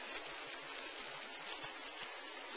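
Water sprays from homemade copper watering fittings onto a potted plant on a porch, a faint, soft patter like light rain with small scattered drips, continuous and quiet.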